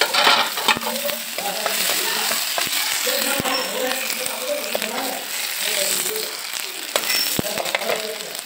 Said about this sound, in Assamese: এখন কেৰাহীত তেল অলপ গৰম কৰিছোঁ। তাৰপিছত তাতে পিঁয়াজ দি দিছোঁ।